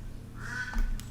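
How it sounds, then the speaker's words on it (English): A short burst of duck quacking, a couple of nasal calls rising over a low steady background, fairly faint and brief. "And we have sound effects from ducks now."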